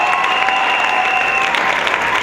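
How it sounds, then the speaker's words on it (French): Steady applause from a crowd at a civil wedding evening party, cheering on the groom; a dense, continuous clapping with a sustained tone and some voices faintly mixed in. "Applaudissez pour le mari."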